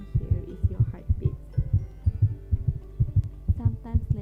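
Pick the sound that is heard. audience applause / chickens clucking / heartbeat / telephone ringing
heartbeat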